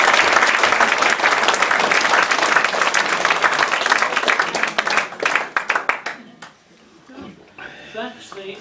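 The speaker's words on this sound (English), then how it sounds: "you should all deserve to applaud yourselves with some clapping" Bowls club members applauding at a presentation event, a loud sustained burst of clapping that thins out into scattered claps before fading, followed by talk nearby.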